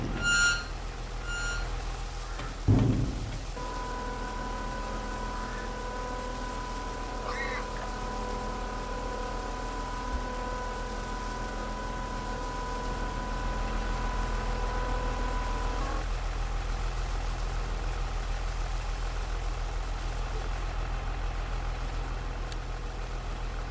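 A tractor trailer tips its load in a farming game over a low steady engine idle, with a bright sustained electronic tone for several seconds and a brief thud near the start, no talking.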